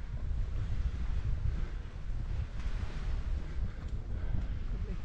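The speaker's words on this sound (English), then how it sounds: "Sea looks a little bit choppy." Steady wind buffets the microphone over the broad, continuous wash of choppy sea at Palmanova, Mallorca, with no voices.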